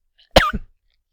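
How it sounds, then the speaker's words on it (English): A single harsh cough burst, close and fairly loud, followed by a short second rasp, then silence. "Apologies for that coughing."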